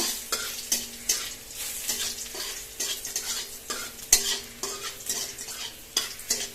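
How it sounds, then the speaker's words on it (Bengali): Garlic and radhuni spice sizzle in hot oil while a utensil stirs them in repeated scrapes and clinks against the pan, a moderately quiet, uneven rhythm of stirring over constant frying, with no voices. "এবার একটু নাড়িয়ে চাড়িয়ে নেব রসুনটা একটু রাঁধুনিটা একটু ভেজে নেব"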